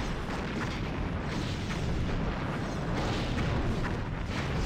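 Enemy torpedo hits and explosions rumble continuously in a Star Trek starship battle game, a dense, loud, low booming wash without clear breaks and no talk.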